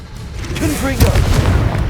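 A Confringo blasting spell explodes in the video game Hogwarts Legacy: a loud, deep boom lands about one second in and rumbles on briefly, while a voice calls out at the same moment.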